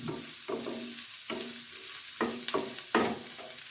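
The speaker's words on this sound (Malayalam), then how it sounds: "സവാള ഇട്ട് കൊടുക്കാം ചെറുതായിട്ട് അരിഞ്ഞ ഒരു സവാളയാണത്" Finely chopped onion frying in a pan for a muttapappadam curry, giving a constant sizzle with several loud stirring scrapes spaced about a second apart, close and without talk.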